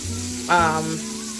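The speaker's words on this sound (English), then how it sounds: "let me finish frying this salmon" Salmon frying in a pan, with a brief louder sizzle burst swelling for about half a second against a low steady kitchen hum before settling back to a quiet background.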